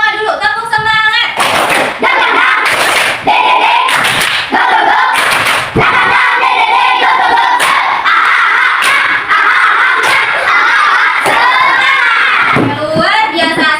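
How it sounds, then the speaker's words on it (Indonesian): Schoolchildren in a classroom perform a rhythmic spirit clap, loud patterned bursts of clapping mixed with chanting voices and shouts, close and energetic, ending in a brief cheer. "Siap, kita tepuk semangat dulu. Tepuk semangat."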